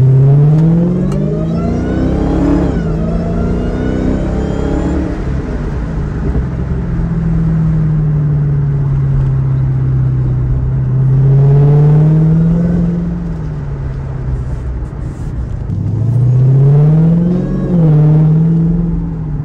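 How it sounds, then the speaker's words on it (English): A Dodge Challenger Hellcat engine revs up and down in repeated surges, a deep rumble topped by a rising supercharger whine, with no one speaking. "You guys hear that supercharger whine?"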